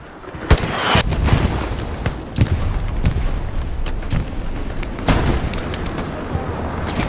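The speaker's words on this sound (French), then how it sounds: "Théo, fais gaffe, ça me tire de la droite aussi." Dense gunfire in the World War II shooter Hell Let Loose during an infantry squad battle: rapid overlapping shots and bursts with sharper close cracks rising above a constant rumble of distant fire.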